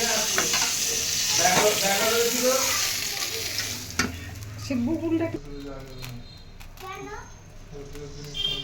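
Dried red chillies and nigella seeds crackle and sizzle in hot oil left over from frying pointed gourd, a steady close hiss with light stirring, and someone talks over the later part.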